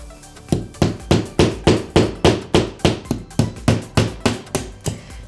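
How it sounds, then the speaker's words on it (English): Drywall pilot holes for wall anchors are tapped out with a hammer: about fourteen sharp, evenly spaced strikes, close and loud, with no talking. "And now, make pilot holes for your easy anchor."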